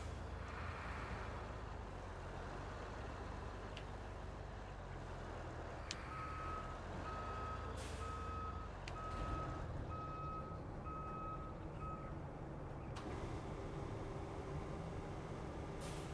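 In the game Roadcraft, an overloaded truck reverses, its backup alarm beeping in a steady repeating series over a constant low engine rumble, with no talking.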